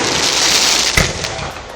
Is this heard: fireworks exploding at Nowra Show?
yes